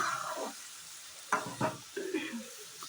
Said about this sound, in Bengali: মশলাটার মধ্যে আমি সবটা দিয়ে দিলাম এবার ভালোভাবে নিজে থেকে মিক্স করে নেব